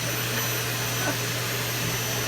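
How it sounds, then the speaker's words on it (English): Central vacuum system running inside an RV, a steady, loud, unbroken whooshing drone with a low hum underneath, close by and without talk. "that's the central vac system where you can sweep your floor, everything"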